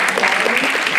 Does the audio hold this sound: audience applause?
yes